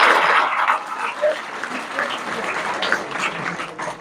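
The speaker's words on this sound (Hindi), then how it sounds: "तो ताली बजाओ इसके लिए।" Schoolchildren clapping together at a government school gathering after a donation cheque is announced; a short burst of applause that starts strong and tapers slightly over a few seconds.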